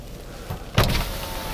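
Driver's auto power window on a 2017 Chevrolet Spark, a short motor whir starting abruptly and running steadily to the end, close up inside the quiet cabin with no talking.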